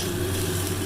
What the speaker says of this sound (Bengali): আর হচ্ছে এখন কুমড়ার ডগা বসাবো।